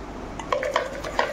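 Tomato, tamarind and garlic mashed with a wooden dal masher in a vessel: a few soft, irregular knocks and squishing contacts, close and fairly quiet.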